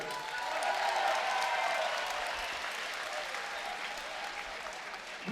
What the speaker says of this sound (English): a big round of applause for these two warriors